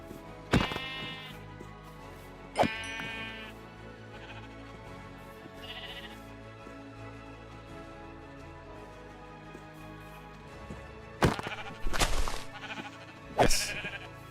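Minecraft sheep bleat in a video game, several short sharp bleats spaced apart, with a quiet ambient game backdrop between them.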